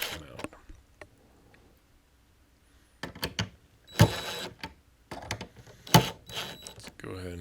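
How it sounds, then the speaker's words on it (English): Screws are driven in while mounting modular RGB Christmas roof lights: short bursts of buzzing power-driver whir with sharp clicks and knocks, spaced out with pauses, a voice speaking between them. "Let's go ahead and just finish getting those screws in."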